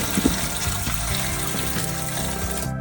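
Water runs steadily into a tub of live crawfish being purged outdoors at a mountain lake, a continuous close splashing flow with a faint gurgle, ending abruptly as it cuts off.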